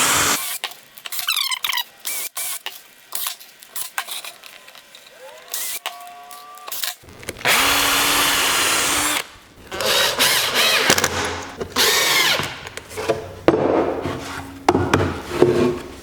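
A power drill whirs in short and longer bursts, driving screws into a wooden bird house, with scattered knocks and handling of wood between runs; close and fairly loud.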